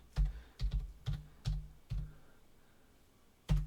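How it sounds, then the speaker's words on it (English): Computer keyboard typing at a Raspberry Pi Touch Display 2 setup: six close, distinct keystroke clusters, evenly spaced with a pause before the last one, with no talk. "Let's get our keyboard over here."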